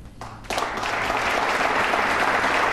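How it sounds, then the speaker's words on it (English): Snooker crowd breaking into loud, sustained applause after a frame ball at the 2007 Premier League semi-final, clapping swelling suddenly from a quiet hall and holding steady. "Crowd applause."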